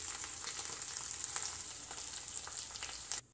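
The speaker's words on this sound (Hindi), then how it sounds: "जब तक हमारे आलू फ्राई हो रहे हैं" Potato slices fry in a pan with oil for sabudana khichdi, giving a steady, close hiss and crackle of sizzling. The sound cuts off abruptly just before the end.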